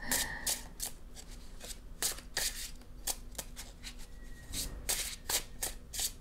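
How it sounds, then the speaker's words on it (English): Tarot cards being shuffled by hand, a steady run of crisp riffling and snapping card sounds up close, with a faint low hum beneath and no talk. "I hope I shuffle properly as well"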